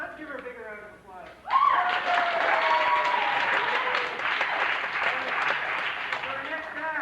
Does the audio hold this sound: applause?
yes